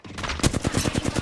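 Rapid video game gunfire, a burst of about eight sharp shots in quick rhythm, loud and close with no talk over it.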